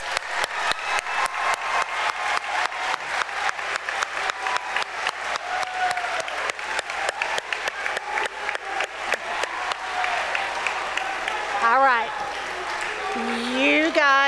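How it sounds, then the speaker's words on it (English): Sustained applause from a large audience at a high school spring choir performance, steady dense clapping that fades toward the end as voices and murmurs rise. "please give them a round of applause."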